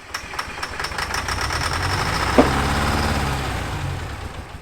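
A 1970s Insley H800 tracked excavator's old diesel engine catches and runs steadily, a loud, close, rough knocking idle with a sharp bang partway through.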